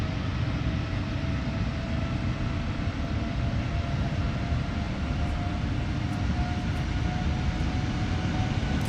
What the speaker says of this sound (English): You can hear the engines coming up.